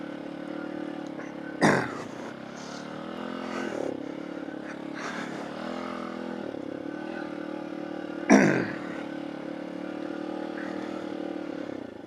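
A Tao Tao DBX1 dirt bike runs steadily at close range out on the trails, its engine a constant drone that swells into two brief, louder revving bursts.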